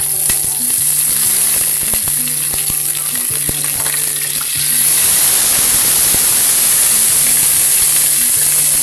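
Onions fry in a pan for pork hock adobo, a loud, close, steady sizzle with light stirring clicks that swells into a broader hiss partway through.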